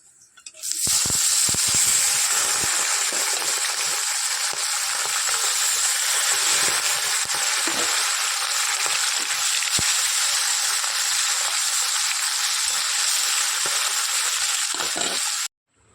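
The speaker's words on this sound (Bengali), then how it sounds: "তেল গরম হয়ে গেছে, মাছগুলো এবার দিয়ে দিই।" Fish dropped into hot oil in a pan sizzle loudly and continuously for about fifteen seconds, a dense frying crackle with scattered small pops that stops abruptly at the end.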